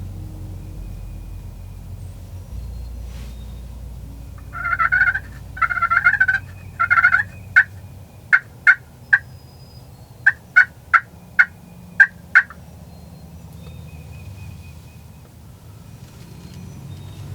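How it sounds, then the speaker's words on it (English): A wild turkey tom gobbles outdoors in rapid throaty bursts, first a rolling gobble and then a string of sharp separate calls that fade into quiet, moderately close against a low background rumble. "He's a throaty gobble. Yeah, that sounds like a tom."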